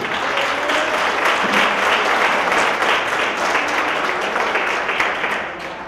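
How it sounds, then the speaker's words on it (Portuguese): A church congregation at a congress applauds, a loud, continuous wash of many hands clapping that holds steady for several seconds before starting to fade at the end. "Dê um aplauso a ele por isso."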